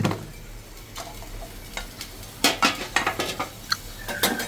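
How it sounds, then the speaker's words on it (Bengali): Paratha frying in a pan while breakfast is made in a home kitchen, heard as a faint background sizzle under a run of sharp clinks and scrapes from a utensil against the pan, quiet at first and then busier. "এদিকে যে পরোটা ভেজে নিতেছি ছোট মেয়ের জন্য নাস্তা বানায় নিতেছি"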